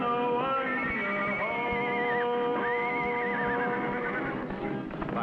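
Champion the horse lets out loud, drawn-out whinnies with a wavering, rising and falling pitch, layered over a steady sustained background tone through most of the stretch.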